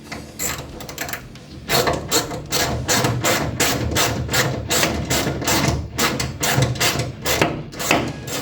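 A ratchet wrench turns bolts on a classic car bench seat, producing a steady, rapid run of close, loud mechanical clicks and rasping metal strokes that repeat rhythmically for several seconds with no speech.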